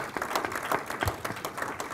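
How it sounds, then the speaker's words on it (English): Conference audience applauding, a dense patter of many hands clapping at moderate level, fairly steady for about two seconds. "Let's give a round of applause for Chief Sumner on his way out."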